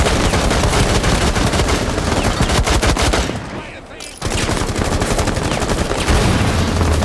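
Rapid bursts of automatic gunfire in a video game rattle loudly and continuously, with a brief lull midway before the shooting resumes just as dense.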